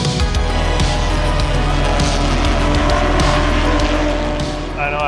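GT4 race cars in the European Series at Barcelona restart after a red flag, engines droning loudly and steadily nearby, with a faint tire squeal near the end.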